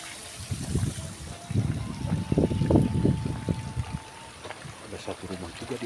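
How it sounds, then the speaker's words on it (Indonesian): Water trickles and splashes steadily at a village spring at the foot of a mountain, a close, bubbling stream with broad low gurgles. "Ini sumber airnya di bawah."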